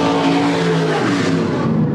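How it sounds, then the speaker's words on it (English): A supermod race car at a dirt track accelerates down the back straight: a loud, close, sustained engine roar whose pitch climbs under full throttle, filling the whole stretch with no commentary. "standing on the loud pedal as they exit turn number 2 and head down the back straight"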